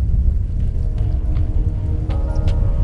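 Steady rain with low rumbling thunder during a storm on a coastline, a continuous broadband wash with deep rolling energy underneath and a few faint scattered ticks.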